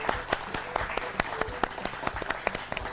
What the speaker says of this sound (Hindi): तालियां, बिल्कुल सही जवाब।